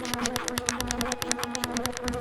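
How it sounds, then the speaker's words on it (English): Bees buzz in The Grinch video game, a dense continuous drone with a rapid pulsing flutter, steady and close, with no talking. "Tell me if you can see the bees on the screen"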